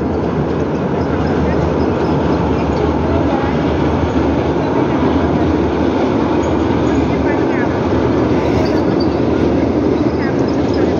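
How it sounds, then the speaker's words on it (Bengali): A metro rail train crosses the Padma bridge with a steady, loud rumble and rail clatter that runs without a break, heard close by. A voice is faintly present under the noise. "পদ্মা ব্রিজের উপর দিয়ে মেট্রো রেল যাচ্ছে।"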